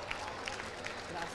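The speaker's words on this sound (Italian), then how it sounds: "facciamo un applauso anche per Angelo Valvasoni" An outdoor audience applauds at a 2017 foghera bonfire event in Latisana, a busy crackle of clapping with scattered sharper claps over a low rumble.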